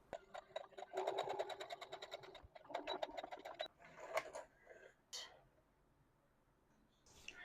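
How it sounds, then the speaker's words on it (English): A home sewing machine stitches a section of a toddler's pants waistband closed in several short, rapid bursts of whirring needle chatter separated by brief pauses, fairly close and quiet. "I am just going to stitch this section closed"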